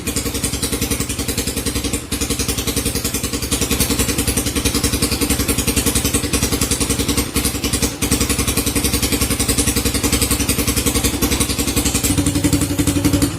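A hot Honda Supra Fit motorcycle idles steadily with a loud, close, rapid putter, its four-stroke pulses evenly spaced, with a couple of sharper knocks and a slight change in tone near the end.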